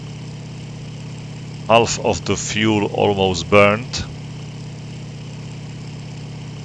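A Daimler-Benz engine of a Bf-109K-4 fighter in IL-2 Sturmovik drones as a steady low hum throughout, with someone talking over it midway.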